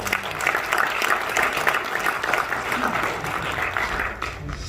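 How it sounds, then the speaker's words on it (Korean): Loud, sustained audience applause fills a Korean conservative political event as the next participant, a university student, comes forward to speak; dense, even clapping continues throughout without pause. "큰 박수 부탁드립니다"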